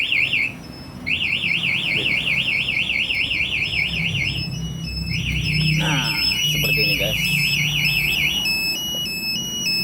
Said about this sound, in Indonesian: alarm yang di motor ataupun yang di remote dia akan teriak ya